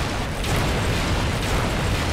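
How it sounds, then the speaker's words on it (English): A loud, rumbling bomb flower explosion in the video game Darksiders Warmastered Edition fills the clip, dense and sustained with crackling debris, no talking. "Explosions"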